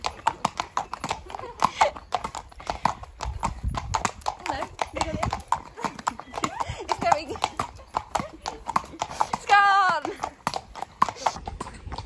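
A horse walks with steady, rhythmic hoof clip-clops close by, a cow parsley stem in its mouth, and one brief whinny; a person talks over the hoofbeats.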